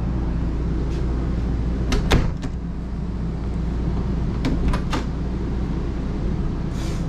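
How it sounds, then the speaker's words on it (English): Over a steady engine hum inside a small Class A motorhome, a door closes with a couple of sharp thuds and clicks, then a second set of clunks a few seconds later. "Close that door, please."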